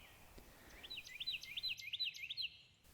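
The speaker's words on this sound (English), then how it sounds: "If anyone knows what this bird call is" A bird repeats a rapid, high warbling call several times in quick succession, clear and fairly close against a quiet background.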